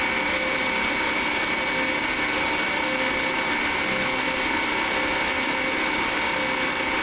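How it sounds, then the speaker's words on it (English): A CNC machine cuts a 17-tooth gear on an A axis, giving a steady, dense whirring and shaving drone at constant loudness throughout, close and with no talk. "Here's another view of the gear being cut"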